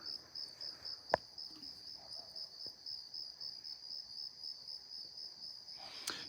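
Crickets chirp in a rapid, steady pulsing rhythm across the whole stretch, a high continuous trill with a sharp click near the start and another sound toward the end.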